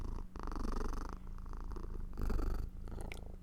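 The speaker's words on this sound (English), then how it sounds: "she's purring" A cat purrs steadily while being petted, a close, loud rumbling purr that pulses in breaths and runs throughout without any talking.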